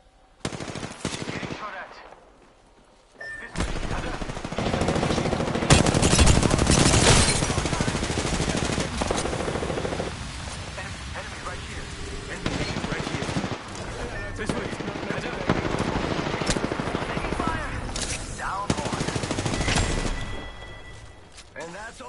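Rapid automatic gunfire bursts from a video game shootout, loud, dense volleys that come and go over about twenty seconds, with players talking over the shooting.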